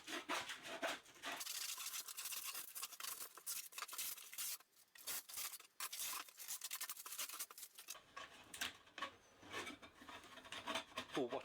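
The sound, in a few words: stabbing, gouging and ripping glued-down foam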